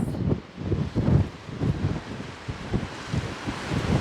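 Strong wind on a cliff edge on Jeju Island buffets the microphone in rough, uneven gusts, with low rumbling thumps and broadband rushing noise throughout.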